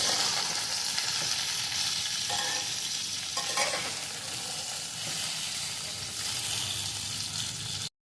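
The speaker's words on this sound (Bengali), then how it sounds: "নাড়িয়ে চাড়িয়ে দেবো আমগুলো" Raw mango pieces for a sweet pickle are stirred in a hot pan, a loud, steady sizzling hiss with soft scraping spatula movements, close up and uninterrupted by speech.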